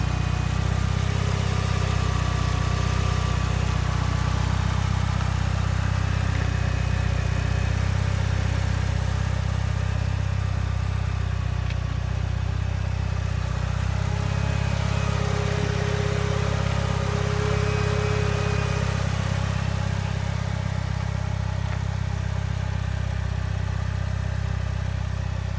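A 2004 Mitsubishi Evo 8 with a high-flow air filter in the stock airbox idles after a cold start, a steady, loud, close engine hum throughout.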